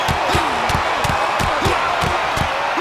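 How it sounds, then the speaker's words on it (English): Loud, steady roar of a wrestling arena crowd in the WWE 2K26 video game, cheering throughout with rhythmic sharp impacts and thuds punctuating the din. "The fists are flying, and this crowd is hot."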